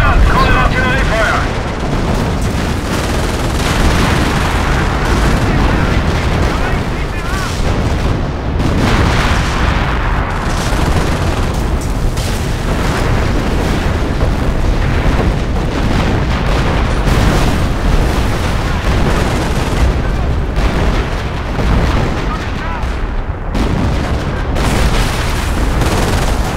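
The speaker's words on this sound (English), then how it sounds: "Artillery fire inbound." Artillery barrage in Company of Heroes with the Immersion 1944 mod during a retreat from bocage country: continuous rumbling booms and bursts for the whole stretch, dense and loud with no let-up, gunfire mixed in.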